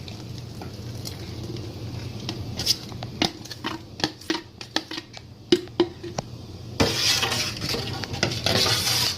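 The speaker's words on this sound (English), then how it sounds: "So I'm going to start mixing." Zobo drink ingredients, including ginger, cloves and black pepper, are stirred and mixed in a pot, giving a run of sharp utensil clinks and scrapes over a steady low hum, with a brighter rushing wash toward the end.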